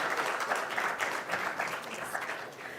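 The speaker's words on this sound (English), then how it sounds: "Please join me in giving our panelists a big round of applause" Audience applause for a panel of speakers at the inauguration of the Herbalife–IIT Madras Centre of Excellence on Plant Cell Fermentation: steady, moderately loud clapping from a crowd that runs unbroken through the whole stretch.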